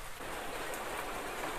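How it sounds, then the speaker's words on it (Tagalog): Dense, steady hiss of heavy rain pouring down, even and unbroken throughout, with no voices. "Sobrang lakas ng ulan."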